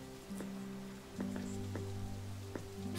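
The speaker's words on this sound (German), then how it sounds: "Hier regnet es wohl häufiger." Rain in the video game Satinav's Chains forms a soft, steady patter, faint and distant, under low sustained background music with no talk.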